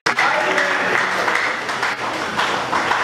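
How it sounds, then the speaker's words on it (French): An audience applauds at a tribute ceremony, a steady burst of clapping from a crowd lasting a few seconds, fairly close and even in loudness. "Est-ce qu'on peut applaudir encore une fois?"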